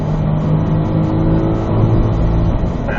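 A Corvette engine accelerating hard on a race track, loud and close from inside the car, a continuous rising roar that holds steady for the whole stretch.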